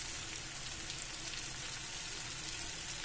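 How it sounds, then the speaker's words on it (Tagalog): Garlic frying in oil until golden brown for adobong kangkong with tofu, a steady soft sizzle and crackle running throughout at moderate level with no talk. "Papabrown natin itong bawang para mabango."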